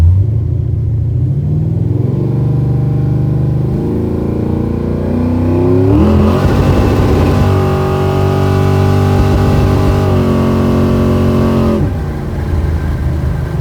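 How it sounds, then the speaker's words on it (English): A big block Chevrolet Caprice with a fresh engine accelerates hard from inside the car, its loud rumble climbing in pitch and then holding flat against the rev limiter before easing off. "Hit the rev limiter, but it was that initial shot."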